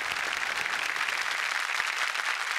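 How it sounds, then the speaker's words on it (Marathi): Steady, dense audience applause fills a Marathi comedy stage show as a play's director is honoured, a continuous crowd of clapping hands at an even level throughout. "जोरदार टाळ्या त्यांच्यासाठी झाल्या पाहिजेत."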